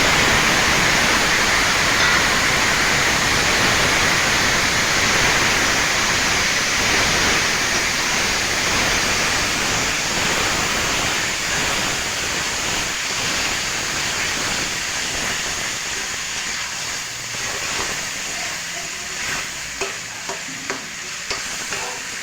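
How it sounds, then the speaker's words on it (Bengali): Taro leaves hit hot mustard oil with bay leaves in a pan, sending up a loud, dense rushing sizzle that gradually softens, with a few stirring clinks near the end. "এখন কচুর শাকটা আমি এই তেলে দিয়ে দিই।"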